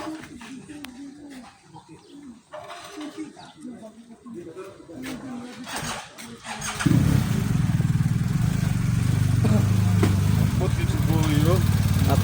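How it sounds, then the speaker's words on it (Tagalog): Big motorcycle engines rumble loudly close by and start in a surge of deep revving. Before that, people talk and pigeons coo. "Napakalaking mga motor."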